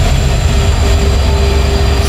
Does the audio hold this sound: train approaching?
yes